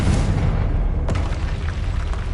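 Confringo spell explosion in the video game Hogwarts Legacy, heard as a dense, rumbling boom that fills the whole clip, with a brief sharper burst near the middle.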